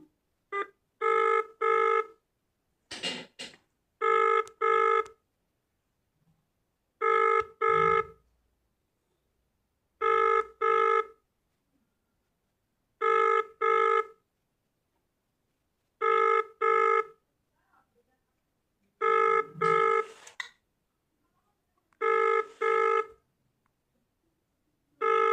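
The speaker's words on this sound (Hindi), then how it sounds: "फिर लगा रहा हूँ फ़ोन" An outgoing call to a police office number rings unanswered, with a loud, clear ringback tone repeating in evenly spaced double bursts about nine times. No voices sound over it.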